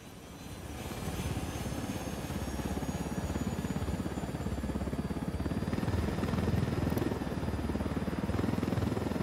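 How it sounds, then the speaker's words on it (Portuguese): Helicopter in the video game Ghost Recon Wildlands, a steady droning rotor and engine hum that builds after the first second and holds at a constant, moderately loud level with no talk. "Vamos com seu helicóptero."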